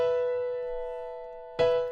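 An FL Keys piano in FL Studio holds a simple chord from a progression, ringing steadily and fading, then a fresh chord strikes near the end, clear and alone with no talking.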